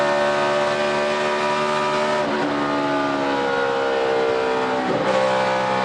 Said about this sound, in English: You heard how little time Tony Stewart was off the gas from transitioning that car from the back straightaway into the banking of turn 3